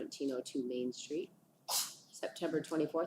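A single sharp sneeze bursts out during a school board meeting, falling in a brief pause between stretches of a person speaking.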